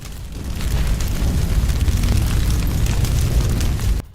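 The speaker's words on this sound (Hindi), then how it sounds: "अमेरिका और इजराइल ने भीषण बमबारी की है" Deep rumbling blasts and roaring fire from bombing of Iranian oil refineries swell into a dense, loud low roar that holds for about four seconds before cutting off, with no speech heard.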